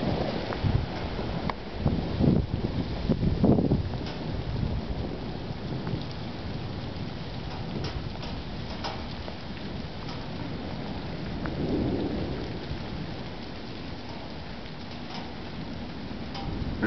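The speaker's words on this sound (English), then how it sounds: "As usual, the storm is approaching from the southwest." Steady heavy rain with rumbling thunder from an early morning hail storm, deep rolls swelling and fading over a constant wash of falling water, with some wind buffeting the microphone.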